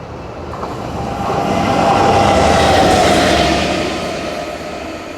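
A train rushes through Whittlesey station, its rumble swelling to a loud peak as it passes close by and then fading, with a faint metallic ring above the roar.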